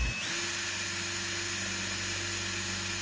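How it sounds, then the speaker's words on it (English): A power drill bores into a ceramic-reinforced 3D printed polymer part, giving a steady, loud, close whine that starts abruptly and holds without a break, with no talking. "Certainly a very different drilling experience that we see, and much more of a powder that we're seeing coming off of this material"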